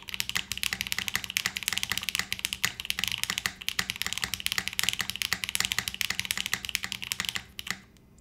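Steady typing on a DR-70F mechanical keyboard fitted with PBT keycaps, a rapid run of close, crisp clacks at an even pace, slowing and stopping near the end.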